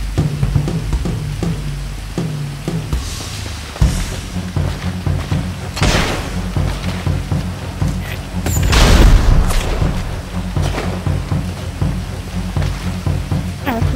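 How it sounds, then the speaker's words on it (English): Firework launcher explosions in the GTA 5 Online video game, a run of loud booming blasts with crackling bursts over a steady hum of game sound, the heaviest bursts coming in the latter half. "and my firework launcher."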